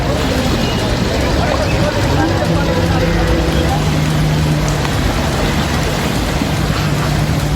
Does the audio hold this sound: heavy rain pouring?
yes